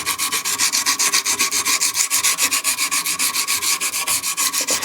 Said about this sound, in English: I just cut a strip of it, and then I just simply sand.